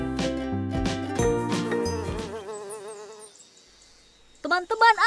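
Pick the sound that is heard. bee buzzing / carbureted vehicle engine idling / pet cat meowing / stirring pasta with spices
bee buzzing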